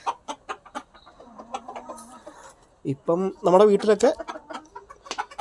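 Hens cluck in a backyard chicken coop, their short calls scattered beneath someone talking nearby.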